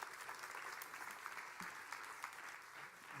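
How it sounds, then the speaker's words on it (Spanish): A church congregation applauds during a Spanish-language sermon, a faint but steady patter of clapping with a few sharper individual claps, heard at a distance and low in level. "¿alguien quiere dar un aplauso? Den un aplauso."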